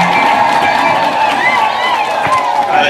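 Wavering high ululation rises over a dense, steady crowd roar with some clapping and shouting at a deacon ordination ceremony in Katoro, sustained throughout.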